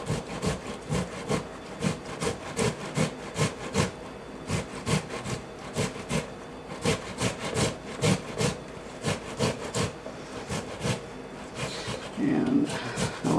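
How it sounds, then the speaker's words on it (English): A tomato is grated against a grater in quick, regular rasping strokes, close and fairly loud, forming a steady rhythm that runs throughout. "while the tomato is grating, most of the skin should remain intact"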